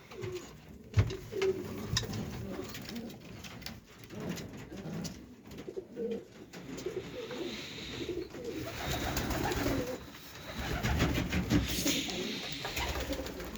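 Several pigeons cooing softly and repeatedly close by, with rustling, wing flutters and other faint background noises.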